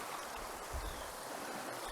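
A creek in Georgia flows steadily near its source, giving a soft, continuous wash of running water that is fairly faint and even throughout, with no voices.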